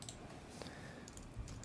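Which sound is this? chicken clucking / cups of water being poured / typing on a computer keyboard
typing on a computer keyboard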